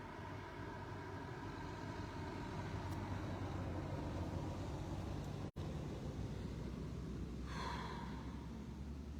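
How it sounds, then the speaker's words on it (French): Two cars pass on a road some distance away, a faint continuous traffic rumble that swells and fades, with outdoor ambience and no talking. "Je laisse passer 2 voitures."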